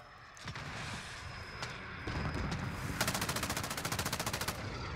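Gunfire in Call of Duty Modern Warfare multiplayer: scattered single shots at first, then a rapid, evenly spaced burst of automatic fire over a constant rumbling game background, moderately close and with no talking.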